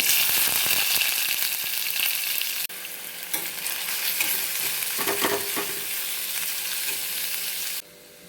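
Onions sizzle loudly and steadily in a hot pan, a dense frying hiss that dips briefly once and drops away near the end.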